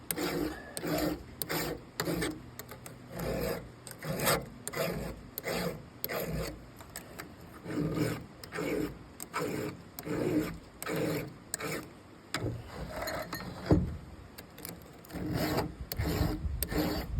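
Steady back-and-forth rasping of a file sharpening a chainsaw chain, repeated strokes in an even rhythm of roughly one per second, close and clear with no talking.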